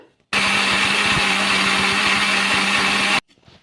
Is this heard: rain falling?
no